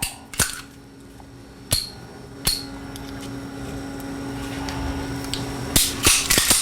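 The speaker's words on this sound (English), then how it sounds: "We're going to go ahead and put this gun back together real quick." A Trojan pistol with a freshly fitted dovetail front sight being put back together, sharp metallic clicks and knocks spaced irregularly over a quiet room hum, then a quick cluster of snaps near the end.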